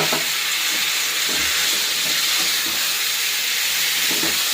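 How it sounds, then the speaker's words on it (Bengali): Vegetable stalks fry in hot oil as spice paste goes in, giving a steady loud sizzle and hiss with faint clinks throughout. "ডাঁটাটা ভাজা হয়ে গেছে, এখন দিয়ে দিচ্ছি মশলাটা"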